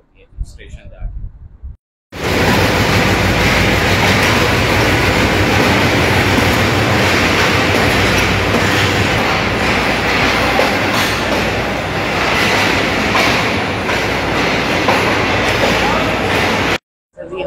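A train at a railway station in Lahore passes close by, making a loud, continuous rumble and clatter of wheels for about fifteen seconds after brief talk at the start.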